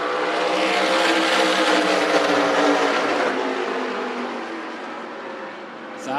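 A pack of dirt track race cars roars off at the start of a heat race, a loud, dense engine drone that stays steady and then slowly fades as the field pulls away, with crowd and announcer noise beneath.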